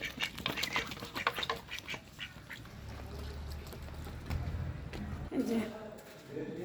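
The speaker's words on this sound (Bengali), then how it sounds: "হাঁসের খাবার দিলাম।" Ducks quack in rapid bursts while being fed outdoors by a riverbank, near and fairly clear, with a person talking over parts of the sound.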